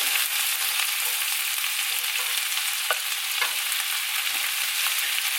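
Onions and cabbage frying in a full pan give off a loud, continuous, close sizzle with a few soft clicks of stirring, and no one speaks.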